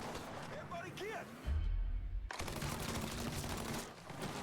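A heavy burst of gunfire in the crime shooter Mafia III lands in the middle, a loud, low blast lasting under a second, surrounded by excited shouting voices before and after.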